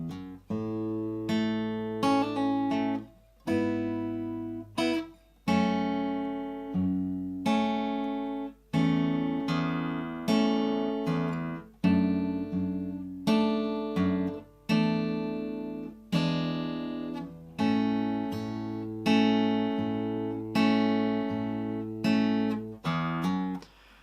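Acoustic guitar slowly picks a line from a song, with clear plucked notes and ringing chords in an unhurried, steady rhythm, close and alone with no talking.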